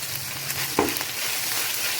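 Biryani masala frying in a pan, a continuous close sizzle with one brief stirring scrape near the middle.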